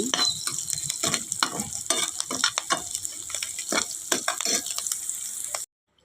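Leaves frying in a pan until browned, a steady sizzle broken by frequent scraping stirs of a spoon against the pan, close and busy, ending abruptly.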